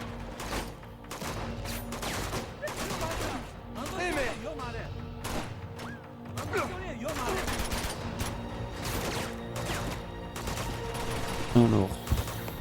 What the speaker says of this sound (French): Donc ça commence fort par une fusillade